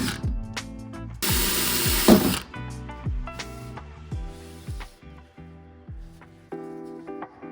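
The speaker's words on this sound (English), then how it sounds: "With the metal case being quite thin, drilling holes was fairly simple." A harsh burst of power drilling through a thin metal case lasting just over a second, set against plucked, melodic background music that carries on before and after.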